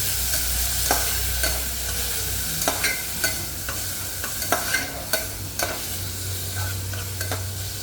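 Tomato, onion and green chillies frying in hot oil, a steady sizzle broken by a series of sharp scraping knocks as a spatula stirs the pan, close and alone without speech.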